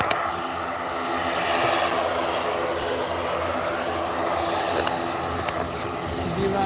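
A Loganair aircraft at Liverpool Airport gives a continuous, fairly loud engine drone with a propeller-like hum, steady throughout with slight swells, heard from outdoors with light wind noise.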